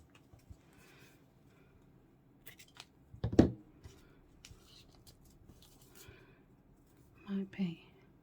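Scissors snipping a strip of lace for a junk journal, one sharp close cut standing out from soft handling noise, with a few quieter rustles around it in a quiet room.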